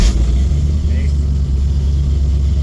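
A 1959 GMC pickup engine runs at a slightly high idle, giving a loud, steady low rumble that stays even throughout, with a brief spoken word over it.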